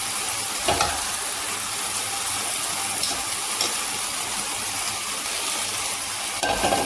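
Potatoes frying in oil in a pan, a continuous close hiss of sizzling with occasional stirring clicks, steady and unaccompanied by speech.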